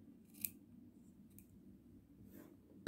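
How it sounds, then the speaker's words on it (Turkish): Scissors snip away excess yarn from a crocheted cupcake coaster: a few quiet, sharp cuts close by in an otherwise hushed room. "Arkadaki bu fazlalık ipi de keselim."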